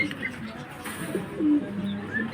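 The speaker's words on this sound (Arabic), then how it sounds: "حمامتين حلوين ما شاء الله" Pigeons cooing softly in a pigeon shop, low murmuring coos with a couple of brief louder calls over a steady indoor background hum.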